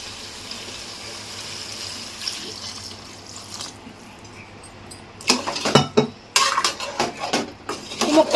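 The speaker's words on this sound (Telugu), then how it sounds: "వాటర్ వేస్తాను." Water is poured into a cooking pot of chopped vegetables for chicken sambar rice, joined by clinks and knocks of the pot and utensils that grow louder and busier in the second half, close by with no talk.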